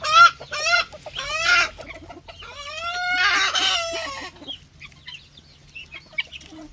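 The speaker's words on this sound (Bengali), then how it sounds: "এগুলো হলো ব্রয়লার মুরগি, এগুলো অনেক বড় হয়।" Broiler chickens on a farm clucking and calling together, several loud nearby bursts with harmonic squawks, tapering to scattered softer clucks at the end.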